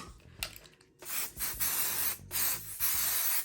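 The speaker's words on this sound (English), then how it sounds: "I'm gonna spray my basting spray onto this guy here." Several short hissing bursts of aerosol basting spray on fabric, close by, the later ones longer and steadier with brief gaps between them.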